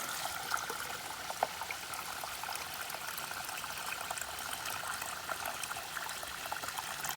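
A steady stream of water pours into a dirty water bag at a backcountry spring in the Linville Gorge, a continuous close trickle and splash with no breaks and no voices.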